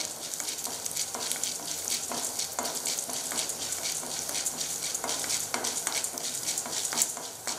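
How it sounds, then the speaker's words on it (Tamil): Chillies fry with roasted urad and chana dal in oil for chutney, a continuous close crackling sizzle with frequent light stirring scrapes throughout, fairly quiet and without speech. "இது வறுபட்ட உடனே அடுத்ததாக மிளகாயை சேர்த்துக்கலாம்."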